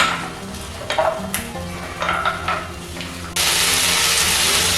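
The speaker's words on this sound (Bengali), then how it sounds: "দু মিনিট ভালো করে নাড়াচাড়া করে নিয়েছি। আলু ও বড়িগুলো ভাজা ভাজা হয়ে গেছে।" Potatoes and bori, small lentil dumplings, stir-fried in a pan, with a spatula scraping and stirring through a steady sizzle that turns louder and more hissing near the end.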